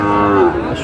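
A Sahiwal calf at a cattle market gives one short, loud, close moo that wavers slightly in pitch, with crowd noise around it.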